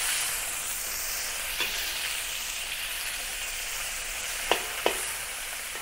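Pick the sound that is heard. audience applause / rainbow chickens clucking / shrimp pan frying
shrimp pan frying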